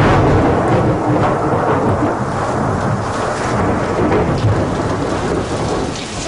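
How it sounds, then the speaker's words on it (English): Violent thunderstorm in the Greek mountains, with steady heavy rain pouring and loud rolling thunder rumbling throughout, a dense continuous roar with no voices. "Violent storms are common in these parts."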